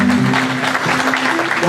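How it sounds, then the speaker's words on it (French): A hall audience at a 2018 agro-business fair claps in a dense, continuous burst, with a voice and some tonal sound mixed underneath. "avec cette salle d'applaudissements"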